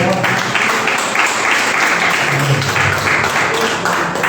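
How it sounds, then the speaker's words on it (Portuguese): A church congregation applauding during a worship service, a loud, continuous wash of clapping from many hands, with a faint voice underneath. "Você vai aplaudir no seu misericórdia"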